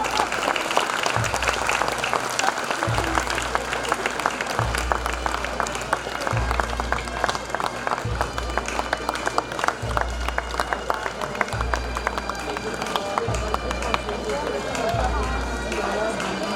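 A crowd claps together in a steady rhythmic beat to dance steps at a Celtic festival, loud and continuous, with voices and shuffling underneath.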